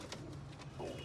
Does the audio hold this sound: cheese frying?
no